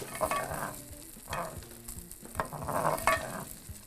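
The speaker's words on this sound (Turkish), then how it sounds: "O yüzden alttan üste gelecek şekilde pirinçlerimizi karıştırıyoruz" Rice being stirred from bottom to top in a pot while pilaf cooks, soft sizzling with several rhythmic scraping sweeps of the spoon, fairly quiet and close.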